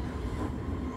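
Train in Train Simulator 2022 running at 140 km/h, a steady, dense low rumble of rolling wheels and rail noise that fills the whole moment without a break.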